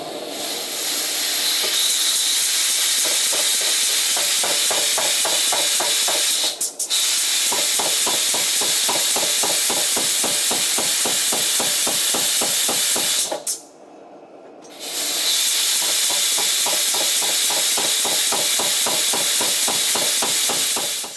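A power hammer forges the tang of a hand-made knife, pounding in a fast, steady train of loud, close blows with brief pauses, backed by a constant hissing roar from the forge.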